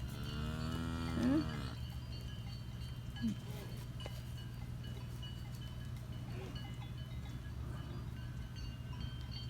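Cattle moo several times as the herd heads into its pen in the evening, a couple of clear calls standing out early over steady farmyard background noise with a constant low hum.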